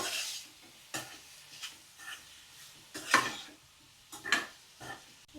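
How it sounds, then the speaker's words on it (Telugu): Tomatoes being stirred into frying dried fish curry in a pan, a series of separate scraping, clattering stirs with soft sizzling in between, close and moderately loud. "ఇట్లా మనం కలబెట్టాలి టమాటాలు వేసాక"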